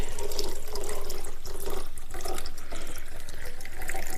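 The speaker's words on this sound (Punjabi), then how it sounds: "ਪਾਣੀ ਭਰ ਦਿੱਤਾ ਇਸ ਗਲਾਸ ਦੇ ਵਿੱਚ ਦੇਖੋ ਤੁਸੀਂ" Water running into a drinking glass, a steady close stream with a faint gurgling pulse throughout the short span, no voices.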